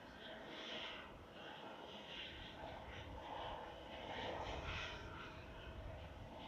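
An aircraft landing at Manchester Airport gives a broad, steady engine roar at a distance, swelling slightly toward the end, with faint voices underneath.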